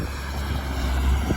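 Wind buffets the microphone in a constant low rushing roar on a mulberry farm, loud and close, with no voices.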